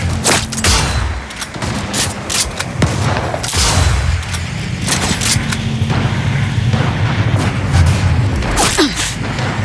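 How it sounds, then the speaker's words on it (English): Enemy artillery and heavy gunfire in the video game Cyberpunk 2077 pound in a dense, continuous barrage of booms and rapid shots, loud and close throughout with no pauses. "Enemy artillery! The side! Flank! Closing in!"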